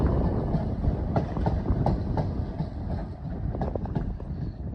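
A Class 455 electric multiple unit to Hampton Court passing through Clapham Junction: a continuous close rumble of wheels on rails, with rhythmic clicks over the joints and no talk.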